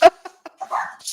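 A neighbor's dog barks in a few short, sharp bursts with pauses between, followed by a longer whiny yelp, heard clearly from a house.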